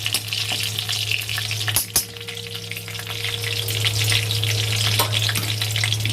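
Food sizzles loudly in a hot pan with a constant crackling hiss, broken by a couple of sharp scrapes and clanks of a spoon stirring.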